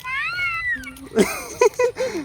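A voice imitates a cat's drawn-out meow, then gives a few short, squeaky mewing calls in quick succession, close and fairly loud.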